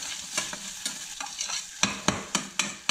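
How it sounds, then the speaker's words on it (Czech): Onion or pork lard frying in a pan while stirred, a soft sizzle with repeated scraping clicks from the utensil in an uneven rhythm, close and fairly quiet, with no talk. "Na té cibulce nebo mastek prostě začnu smažit."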